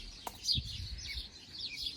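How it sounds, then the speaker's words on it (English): Birds chirp and tweet outdoors in short, high bursts, with a soft click and faint rustling below, at a moderate distance. "that's the birds."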